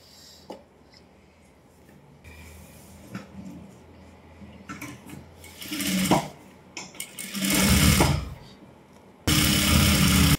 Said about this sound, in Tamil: இப்போ என்ன பண்ணணும், இதை வந்து மடிச்சு அடிக்க போறோம்.